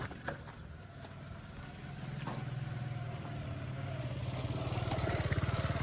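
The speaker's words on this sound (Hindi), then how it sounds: "बाइक भी अभी आ रही है।" A motorcycle engine rises steadily from a low idle-like hum to a louder, nearer drone over several seconds, pulsing as it draws closer outdoors at night.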